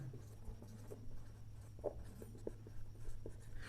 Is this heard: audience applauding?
no